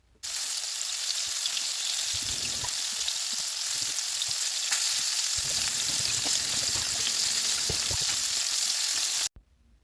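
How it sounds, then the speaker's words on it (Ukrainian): Steady sizzling and crackling of floured hake frying in a hot pan over medium heat, continuous and close for several seconds before cutting off abruptly. "Обсмажую рибу на середньому вогні з обох боків."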